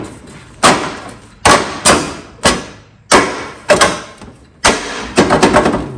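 A John Deere D130 lawn tractor's OEM bumper is pushed and slid into the frame rail, giving a series of sharp metallic thuds and clunks about seven times in irregular rhythm, close and loud, with no talking.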